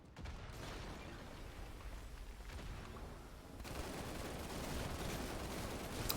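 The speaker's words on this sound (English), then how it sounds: "All right, those are good grenades." Grenade explosions in the video game Halo, quiet and distant bursts mixed with rapid gunfire, swelling into a louder rumbling barrage partway through.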